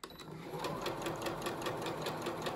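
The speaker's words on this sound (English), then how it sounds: "And now you're going to sew all the way down to where the second thread is." A sewing machine stitches down a fabric face mask, its needle running in a fast, steady rhythmic clatter close by, with no talking over it.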